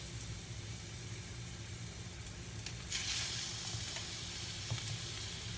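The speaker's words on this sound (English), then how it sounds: "Oh yeah, we got the sizzle." Turkey meatballs sizzle steadily in a hot frying pan, a close, even hiss with a brief louder crackle partway through, and no voices.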